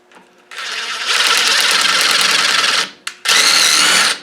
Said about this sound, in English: by using your impact gun with a socket thing on the end